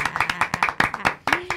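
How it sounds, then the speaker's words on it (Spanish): A small group claps for a Catholic radio station's anniversary in Táchira, with quick rhythmic claps close by and a voice murmuring briefly under them. "Vamos a darle un aplauso a esta cumpleañera"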